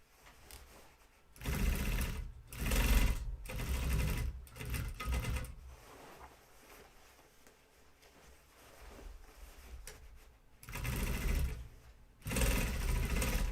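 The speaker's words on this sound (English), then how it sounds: "I hate sewing with the pants under the head." A sewing machine stitches Ames jeans in repeated loud, buzzing runs of a few seconds each, with quieter pauses between bursts.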